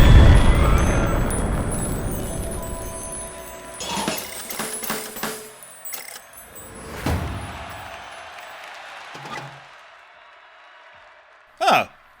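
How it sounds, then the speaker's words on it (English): Several booming bursts and pops from fireworks in the video game Hi-Fi Rush ring out over a noisy backdrop of cheering and voices, ending with one sharp, bright crackling burst. "You like fireworks?"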